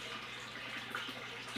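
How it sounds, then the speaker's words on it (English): Water flows through the drainage of an indoor apartment grow bed, a steady, close rush of liquid that continues evenly throughout with no voices. "But this seems to be flowing. It's a lot of water at one time"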